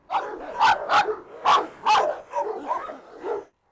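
Several dogs, a rottweiler among them, bark in a rapid, excited burst of about nine loud, close woofs and yips that stop abruptly.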